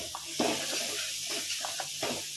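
Onion and tomato with green chili and chili powder sautéing in oil make a soft, continuous hiss, broken by a few dull stirring knocks and scrapes.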